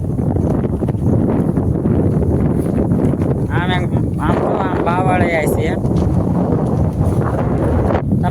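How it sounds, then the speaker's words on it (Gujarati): Steady wind blows over a farm field and rumbles hard against the microphone the whole time, loud and continuous, while someone talks over it. "તમને થોડાક પવનનો અવાજ આવતો હોય છે"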